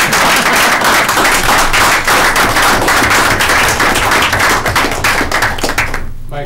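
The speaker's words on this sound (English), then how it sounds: "Can we clap or anything?" Dense applause from a room of people at a town board meeting, steady and loud for several seconds before quickly tapering off at the end.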